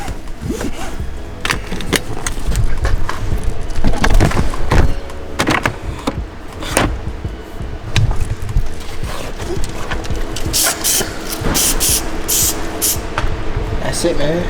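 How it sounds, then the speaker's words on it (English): Disinfectant is sprayed over a rental car's interior surfaces in several short, hissing bursts toward the end, with a person talking and rustling and clattering movement inside the car. "just spray all the high touch areas"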